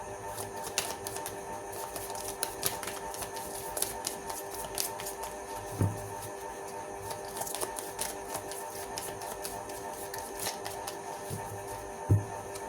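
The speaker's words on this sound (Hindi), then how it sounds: "Any other card? My final shuffle." Tarot cards shuffled in the hands during a reading, a soft, steady papery riffling and rustling that runs continuously with a few light taps and thumps, close by and quiet, with no talking.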